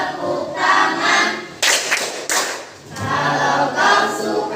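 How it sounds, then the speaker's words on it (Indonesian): Group of people clapping hands together during a classroom action song, bursts of unison claps separated by short pauses, with some thuds and crowd noise around them. "Kalau kau suka hati tepuk tangan."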